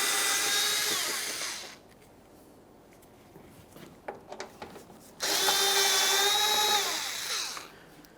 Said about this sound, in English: Use our 10mm for these mounting bolts.